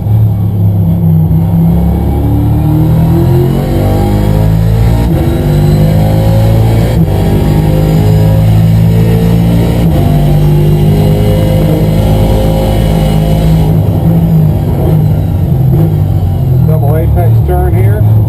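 A Rolex Daytona Prototype race car leaves the tight pit lane onto the Daytona track, its engine roaring loud and close without a break and rising and falling in pitch through gear changes, while a voice talks over it.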